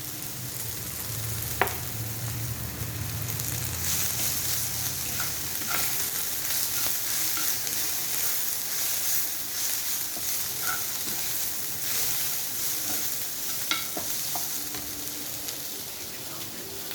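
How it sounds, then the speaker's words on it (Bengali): Cabbage sizzles and crackles steadily in a hot pan of oil for a curry, with a dense hiss throughout and occasional scraping taps as it is stirred, loud and close with no talk. "এবার আমি বাঁধাকপিটা দিয়ে দিলাম।"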